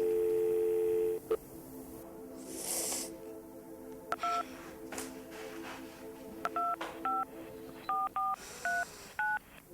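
A telephone receiver gives a steady dial tone that breaks off, then a string of short, clipped dialing tones follows in irregular bursts, faint and close with quiet handling noise between them.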